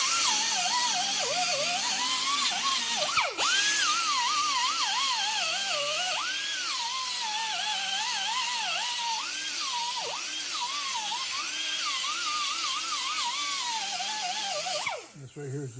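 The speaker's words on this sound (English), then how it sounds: "I got a little disking pad. You don't want to sit there and grind in one spot" A small disking pad on a rotary tool grinding corrosion off the front wheel hub of a Chevy Cruze during a wheel bearing replacement. It makes a continuous high whine that wavers up and down with pressure, loud and close, while someone talks over it, then cuts off at the end.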